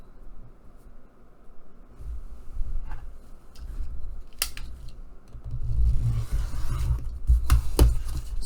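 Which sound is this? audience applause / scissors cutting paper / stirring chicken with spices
scissors cutting paper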